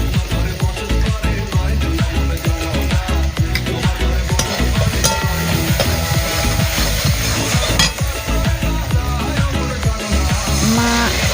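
Spice paste and chopped tomato stirred and frying in a pan for a Bengali fish curry: a continuous loud close sizzle with busy scraping and clattering of the spatula against the pan, no voices.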